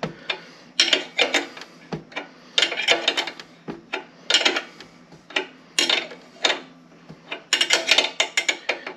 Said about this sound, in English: snug this bolt down and snug the one in the front